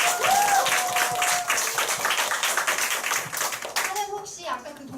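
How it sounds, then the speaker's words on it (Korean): An audience at a training seminar gives a burst of dense clapping that fades after a few seconds, with a few voices, some of them children's, heard under and after the applause. "잘 설명해 주신 우리 최연아 선생님께 감사의 박수 부탁드립니다."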